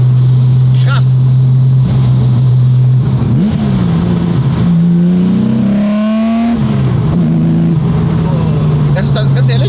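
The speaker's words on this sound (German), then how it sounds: "Das ist der coolste Straßenluftgekühlte, den ich je gefahren bin." An air-cooled road sports car engine drones loudly and steadily from inside the cabin while driving, rising briefly as it revs and then settling back, with someone talking excitedly over it.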